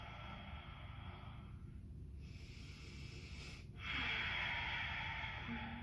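Slow, deep yoga breaths during a teen yoga pose, a long airy inhale and then a stronger, louder exhale close to the microphone with no talking.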